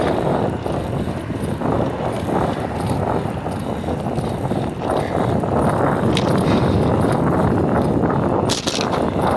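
Wind roars steadily across the microphone of a bicycle riding through Houston streets, a loud, continuous rushing buffet that lasts throughout with no clear speech.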